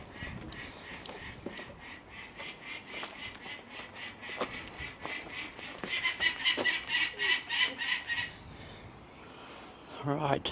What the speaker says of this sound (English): Right, that was the noise of the peregrine falcons,